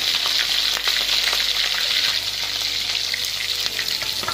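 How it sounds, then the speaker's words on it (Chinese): Pork ribs drop into hot oil in a wok for a rural northeastern Chinese stew, giving a loud, continuous, even sizzle and crackle with no talking. "好，油已烧开，排骨下锅，"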